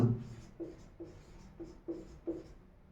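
Chalk or marker writing a definition on a board in a Hindi class, a series of soft, short scraping strokes at a steady rhythm, quiet and close.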